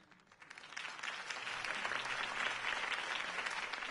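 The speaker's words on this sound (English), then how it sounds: "could have heard that applause" A crowd applauds after Harvey Dent's campaign speech in the Batman Telltale video game. The clapping swells quickly from quiet into dense, sustained applause.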